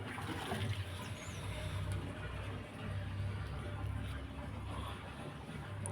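Water pours onto betel vine plants in a garden, a soft, continuous splashing trickle heard at a moderate distance with a low background rumble.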